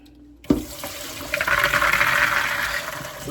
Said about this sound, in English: Okay, let's drain them.